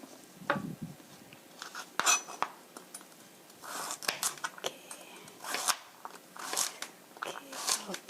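Knife cutting a carrot into thirds in a home kitchen while making chicken curry, a series of crisp, close chopping crunches and clicks on a board, some brief, with no talk.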